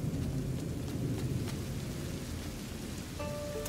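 Steady heavy rain with low rumbling thunder in the A Plague Tale: Innocence video game, a continuous dense downpour with a deep roll underneath and a faint tonal sound entering near the end.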